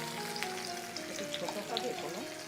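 Potatoes sizzle steadily as they fry in a pan, a continuous crackling hiss with faint stirring and some background voices.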